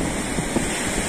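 Gentle ocean waves roll onto sand on a quiet village beach, a steady close wash of surf with a faint wind rumble and no talking.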